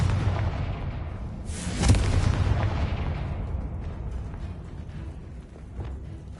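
A Confringo blasting spell in Hogwarts Legacy goes off with a single loud, close explosion. A broad burst flares and then fades into a rumbling tail and low ambient background.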